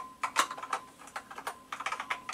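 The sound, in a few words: typing on NABU computer keyboard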